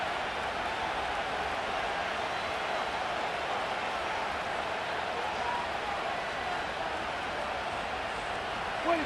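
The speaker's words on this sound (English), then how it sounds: "they're going to hear it from this crowd" Stadium crowd in the Madden NFL 25 football video game gives a steady, dense roar that holds at an even level throughout, broad and continuous with no distinct cheers or breaks.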